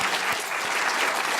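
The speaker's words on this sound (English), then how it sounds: "Applause is appropriate." Dense, steady applause from a large crowd filling an auditorium at a Yale public event, even and continuous throughout with no speech over it.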